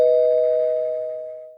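A doorbell at the door of an old haveli gives a single clear electronic chime that rings out and slowly decays to silence.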